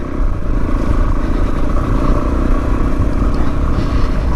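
Suzuki DRZ400E dirt bike pulling away along a slippery chalk green lane, a steady loud engine drone with rough low rumble and some clatter throughout, no voices.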